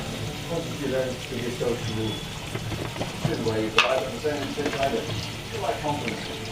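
Food fries on a high flame, a steady crackling sizzle with occasional stirring clatter, while someone talks over it.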